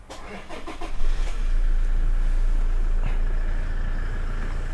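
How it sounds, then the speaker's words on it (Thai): A Toyota Hilux Revo 2.8 4WD pickup truck engine cranks and catches, then settles into a steady, close diesel idle with a low, continuous rumble. "เดี๋ยวสตาร์ทเครื่องยนต์ให้ฟังเสียงเครื่องด้วยนะครับ"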